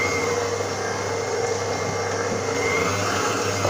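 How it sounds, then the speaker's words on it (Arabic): An electric beater whirs steadily as oil is slowly added to batter for an orange cake. The motor stays at a constant loud drone from start to finish, with no talking. "راح نرجع البيتر نتاعي نبدا نضيف الزيت"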